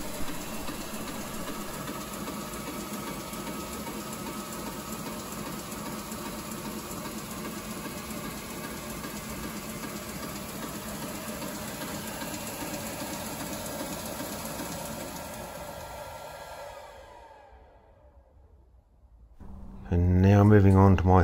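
A new workshop machine on a variable-frequency drive hums steadily as it runs up toward full 50 Hz speed, then winds down into near silence before a short burst of louder sound.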